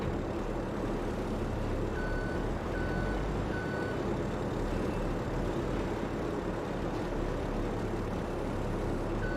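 A heavy truck in the Farming Simulator video game, on a gold-mining map, backs up with a few short reversing beeps over a steady, loud diesel engine rumble.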